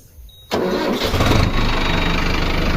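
A tractor engine cranks and catches abruptly, then runs at a steady, loud idle outdoors at sunset, with no talking.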